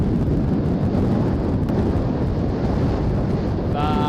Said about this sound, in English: Check out that wind.